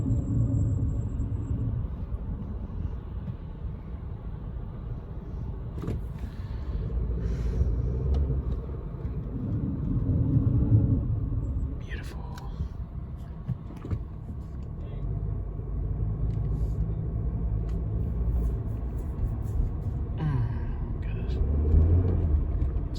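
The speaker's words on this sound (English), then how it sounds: "And it is whining like crazy." A Nissan with a faulty, slipping transmission drives along: a steady low engine and road rumble fills the cabin, with faint mechanical whine and occasional clunks and knocks, while a person talks over it.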